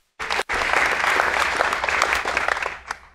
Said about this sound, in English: So, yes, let's clap for that.